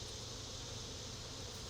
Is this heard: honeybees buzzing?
yes